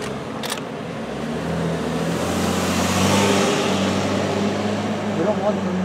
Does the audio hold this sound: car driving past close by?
yes